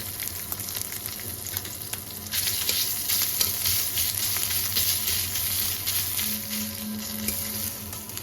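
Ginger sizzles in hot oil in a home kitchen pan, a steady close crackle and hiss that swells once the pieces go in and then holds loud, with a faint hum beneath.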